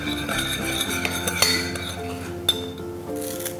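Spoon clinking and scraping against a bowl while lemon juice is mixed into a salad dressing, with bright repeated clinks over a continuous stirring rattle, close and moderately loud.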